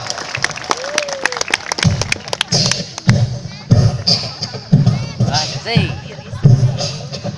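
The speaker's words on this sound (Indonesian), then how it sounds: "boleh tepuk tangan dulu yang meriah buat Ohang." Applause from an audience at a Sundanese stage comedy show, loud bursts of clapping mixed with crowd noise and dull thumps, with voices talking over it throughout.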